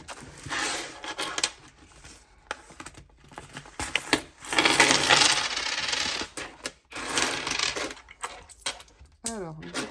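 Euro coins and money being counted by hand, with close clinks and rattles of coins dropping and sliding in irregular bursts and a steadier run of jingling in the middle, under brief quiet speech.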